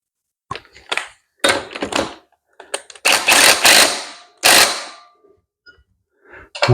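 Socket ratchet tightening bolts on a Mustang II independent front suspension for a 1935 Chevy, heard as loud, close clicking bursts in several separate runs with short pauses between them.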